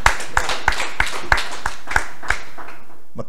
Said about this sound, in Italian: Marlena, un applauso.